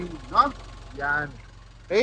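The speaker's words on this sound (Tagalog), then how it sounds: "So pakinggan nyo yung tunog ng makina mga boss." A 2015 Nissan Urvan 2.7 L diesel van engine idles with a low, steady rhythmic chug beneath someone speaking briefly nearby.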